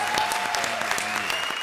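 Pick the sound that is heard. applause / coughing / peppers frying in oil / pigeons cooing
applause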